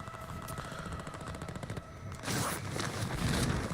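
Gunfire in the video game 6 Underground: rapid automatic bursts blur into a steady rattle, then a louder, denser volley of shots takes over near the end, with no talking.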